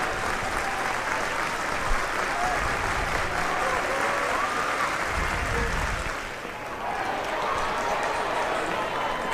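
A large red-clad Hortonville crowd cheers at a state semifinal baseball game against Franklin, a sustained, roaring wash of crowd noise heard from within the stands, with a play-by-play announcer talking over it.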